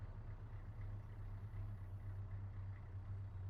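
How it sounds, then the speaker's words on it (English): A vehicle engine in the ArmA 3 military video game, a steady low idling rumble that stays faint and continuous, heard alone without talk. "I got audible on a vehicle to my west, southwest direct."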